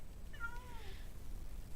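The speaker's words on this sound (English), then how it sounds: "guess how many times the cat meows during the duration of this video" A single cat meow, a short rising-then-falling cry set against a quiet room with low background rumble.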